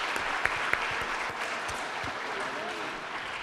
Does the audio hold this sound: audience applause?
yes